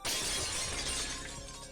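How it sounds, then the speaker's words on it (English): Window glass shatters loudly in the Higurashi When They Cry video game, a sudden bright crash with scattering shards that fades over under two seconds, with no voices. "He broke into the house by smashing the window."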